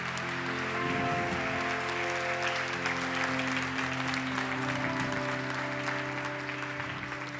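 An audience claps together during a Mexican stand-up comedy set, steady applause held at a constant level, with sustained tonal hum or music running underneath.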